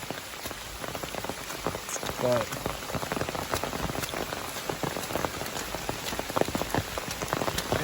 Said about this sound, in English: now it's just pouring on us